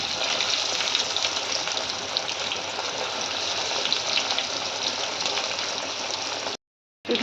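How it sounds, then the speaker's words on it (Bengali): Fish fillets frying in hot white oil in a wok over medium heat, a loud, dense, continuous bubbling sizzle held close for several seconds before cutting out briefly, no talking. "দিয়ে ফিলেগুলো খুব ভালো করে ভাজবো মাঝারি আঁচে"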